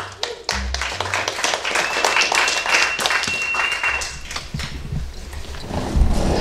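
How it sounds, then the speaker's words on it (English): Audience applause and scattered clapping at a lightning talk event at Hacker Dojo, a steady roomful of hands lasting several seconds with a few sharp individual claps standing out near the end. "All right, round of applause."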